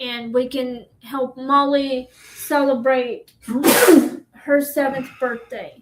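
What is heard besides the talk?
sneeze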